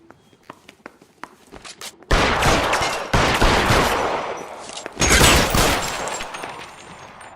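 Rapid gunfire bursts in L.A. Noire, a Los Angeles police shootout: faint scattered clicks and steps, then loud sustained volleys of close shots filling the scene from about two seconds on, dipping briefly before another heavy burst.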